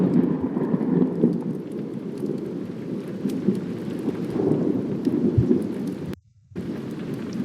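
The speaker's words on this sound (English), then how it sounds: "Nice storm here." Thunderstorm outdoors with steady rain and low rolling thunder, a continuous rumbling wash that briefly drops out near the end.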